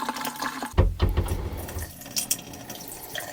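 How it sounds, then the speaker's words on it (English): Antifreeze poured into a sink drain while winterizing an Airstream RV: a close gurgling, splashing pour of liquid with a burst of sloshing early on, then lighter trickles and drips. "pour a little bit of antifreeze into all the sinks"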